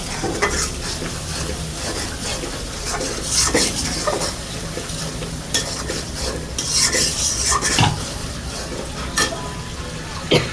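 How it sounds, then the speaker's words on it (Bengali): Spices being stirred and fried in a pan for a shrimp and bottle-gourd greens dish, with steady sizzling and repeated sharp scrapes and clinks of a spoon against the pan, close and loud. "তো এখন ভালো করে নেড়ে চেড়ে মশলাগুলোকে কষিয়ে নিব।"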